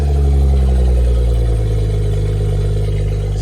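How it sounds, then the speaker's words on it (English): A rebuilt 2014 BMW M5 with custom exhaust idles at an auto auction yard, a loud, close, lumpy low rumble holding steady with a slight choppy lope throughout, no voices over it. "This thing idling like it got a cam on it."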